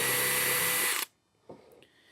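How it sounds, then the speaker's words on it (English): A power drill bores a hole through a wooden deck top rail, whining loudly and steadily for about a second before stopping abruptly, followed by a brief faint knock and quiet. "So I'm gonna go ahead and drill the first hole."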